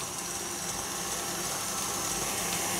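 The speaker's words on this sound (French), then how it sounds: "Désolé pour le bruit du moteur, du batteur" An electric hand mixer whisks egg whites and sugar into firm meringue, giving a steady close motor whir with an even, unbroken drone throughout.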